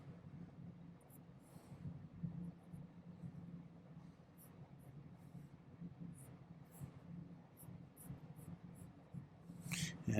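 Pencil sketching lines on paper: faint, soft scratchy strokes come and go over a low room hum.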